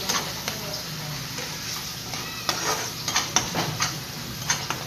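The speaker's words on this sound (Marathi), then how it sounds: "ह्याला मी पाच मिनटं चांगला हलवून घेते" Spice masala for a drumstick (shevga) curry being stirred in a pan, a steady scraping and sizzling bed with sharper utensil clinks clustering toward the end, close and moderately loud with no talk.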